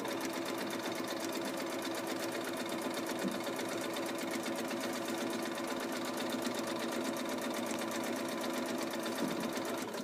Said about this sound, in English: I'm going to sew all the way so that I get to back to where I started